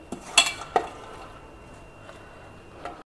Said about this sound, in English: Now place this washed dal in a pressure cooker